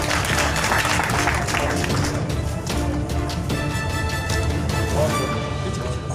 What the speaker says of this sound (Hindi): माननीय मुख्यमंत्री जी का स्वागत कर रहे हैं जोरदार तालियों से